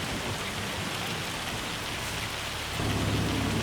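Rain and a thunderstorm in the farming game Farming Simulator 25 on Judith Plains: a dense, steady downpour with a low thunder rumble that swells louder near the end, with no voices.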